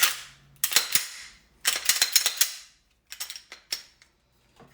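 Mechanical clacks as a Glock pistol is reassembled and its slide racked: several sharp metallic snaps in bursts, close and fairly loud, separated by brief quiet gaps.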